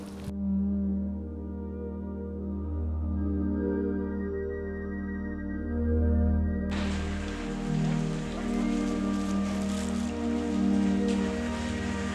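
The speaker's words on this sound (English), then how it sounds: "Why is it raining today?" Steady rain falls on a surface as a continuous close hiss, with a low hum running beneath it and a sudden shift in brightness partway through; no one speaks.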